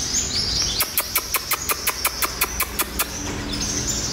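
Captive sunbirds about six to seven months old give a rapid series of about fifteen short, bright, high chirps in an even rhythm, close and clear over a faint background hiss.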